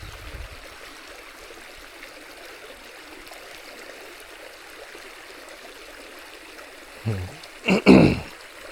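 A small creek at the start of Paddy's River trickles and babbles in a steady, soft wash, with a few louder close splashes near the end.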